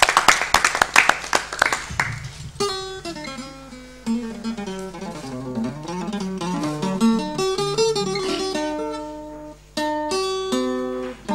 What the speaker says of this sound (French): Je vous demande d'applaudir Oumar Leblanc pour sa prestation